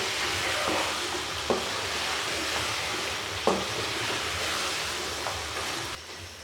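Softened vegetables for beef biryani are stir-fried in a pot with a steady, close sizzle, broken by a few sharp spoon scrapes and knocks against the metal.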